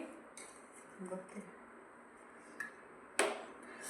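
A metal lid lifted off a cooking pot with a sharp clank near the end, after scattered soft clinks of kitchen utensils in a quiet home kitchen.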